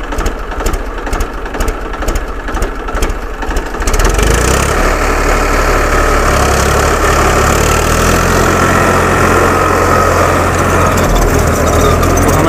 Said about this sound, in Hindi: तो आप ट्रैक्टर स्टार्ट करो।